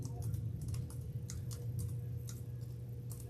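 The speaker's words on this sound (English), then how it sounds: "Let me type it in the chat." Light, rapid clicking of computer keyboard keys comes in quick irregular bursts at a modest distance over a low steady hum.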